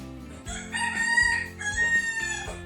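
A rooster crows nearby, a loud drawn-out call that rises and falls, repeated twice in quick succession.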